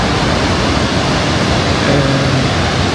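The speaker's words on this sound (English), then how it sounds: "So here you can see water flowing in this river" Steady broadband rush of river water flowing beneath a bridge in Florence, continuous and even throughout, close and fairly loud with no speech.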